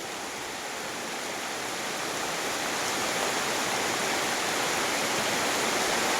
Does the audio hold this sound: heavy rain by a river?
yes